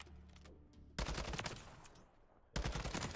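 Test shots from a gun at a firing range in a video game, two bursts of rapid automatic fire with a pause between them, crisp and fairly close but quiet overall.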